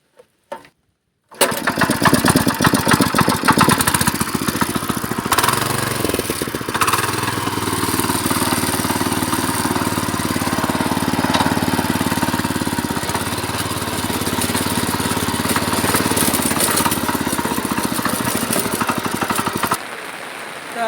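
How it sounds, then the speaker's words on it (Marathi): After a brief quiet with a couple of small knocks, a rope-started farm tractor engine suddenly catches. It chugs steadily, close and loud, for most of the clip before cutting off at the end. "थोडासा ॲक्सिलेटर वाढवायचा न्यूटन करायचा आणि रस्सी खेचायची का लगेच ट्रॅक्टर चालू होतं"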